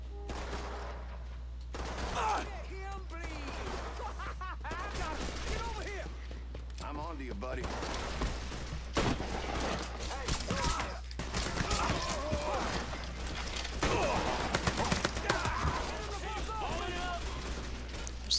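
Gunfire from the Mafia 3 video game cracks out in repeated bursts and scattered single shots over about eighteen seconds, loud and close, mixed with a constant low hum and other game noise.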